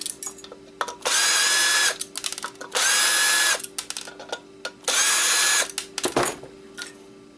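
A power drill unscrews a board, whirring in three bursts of about a second each, with rattling and clicking handling noises between them.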